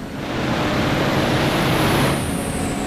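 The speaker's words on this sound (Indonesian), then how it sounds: "Untuk suara remnya seperti itu." Loud, close hiss of a bus air brake releasing in Bus Simulator Indonesia, fitted with a Mercedes OH1626 sound mod, a steady broadband rush of air lasting nearly three seconds with no talk.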